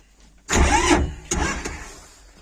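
A cold mini tractor diesel engine, started without its decompressor, cranks with a sudden loud churning burst, gives a second shorter surge, then fades away, close by and with no voices.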